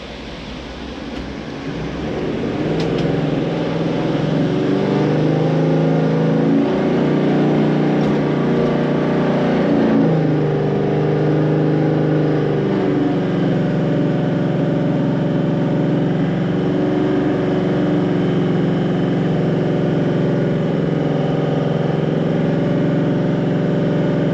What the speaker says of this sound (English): So we're in 4-wheel drive low, I'm going in 2nd gear.